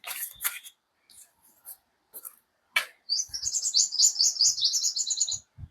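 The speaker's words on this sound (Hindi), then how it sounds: "इसको बोलते हैं चहचहाना, चिल्लाना नहीं" Birds chirp in short scattered calls, then break into a quick run of rapid tweets, fairly clear against otherwise quiet surroundings.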